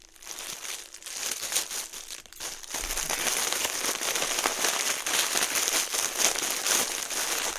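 Sustained crinkly tearing and crumpling as plastic toy packaging is ripped open, close and fairly loud, building into continuous ripping after a quieter start.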